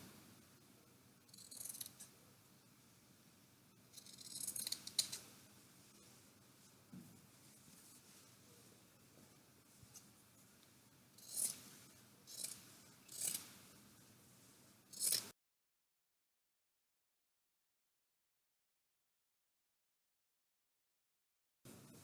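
Scissors snip through a tank top fabric in a few short bursts of cuts, close and fairly quiet, with pauses between, then silence.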